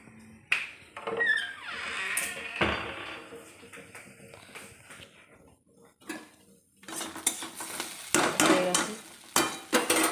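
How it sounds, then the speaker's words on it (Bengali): Chhana (cottage cheese) frying in a home kitchen pan, heard as loud metallic scrapes and clatters of a utensil against the pan with a soft sizzle underneath, in irregular bursts. "ছানাটা পুড়ে যাবে যদি বেশি ভাজা হয়ে যায়"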